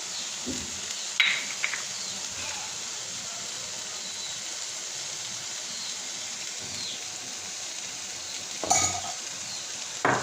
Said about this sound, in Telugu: వెనిగర్, సాసు వేసుకొని బాగా కలుపుకోవాలి